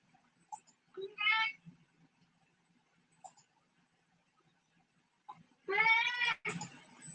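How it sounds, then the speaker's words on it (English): A house cat meows twice at an indoor meditation gathering, a short call near the start and a longer, louder drawn-out meow toward the end, over a quiet room. "Sorry, here's my cat ready to go."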